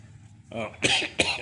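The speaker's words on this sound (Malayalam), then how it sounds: "ക്ഷമിക്കണം ഞാൻ ഇടയ്ക്കിടയ്ക്ക് ചുമയ്ക്കുന്നുണ്ട്" A person with a fever and cough, inside a mushroom-growing shed, speaks briefly and then lets out two sharp, close coughs in quick succession.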